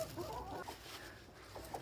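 Soft, faint clucking from a Brahma chicken, a few low murmuring notes close by in a quiet setting.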